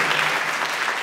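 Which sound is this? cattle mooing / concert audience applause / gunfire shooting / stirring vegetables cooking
concert audience applause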